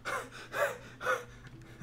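A dying character in the game Enter the Gungeon gasps repeatedly, three or four ragged, breathy inhalations in a steady rhythm, fairly quiet and close with no talk over them.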